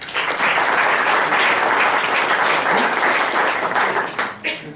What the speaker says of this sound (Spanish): Para él lo recibimos con un fuerte aplauso.